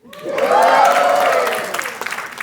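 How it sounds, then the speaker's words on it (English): An audience at a 30-year anniversary celebration breaks into loud, sustained applause and cheering, swelling quickly, holding steady, then thinning into scattered claps. "Those of you who know me, just give me a cheer because I need it."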